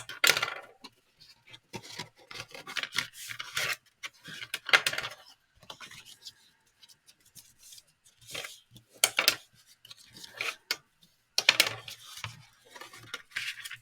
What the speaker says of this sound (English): So now we need to fold and burnish all our score lines.